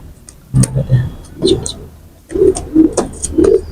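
Teddy pigeons, including two males, coo in low, throaty bursts that repeat in short clusters separated by pauses, close by, with some faint clicking and voices in the background.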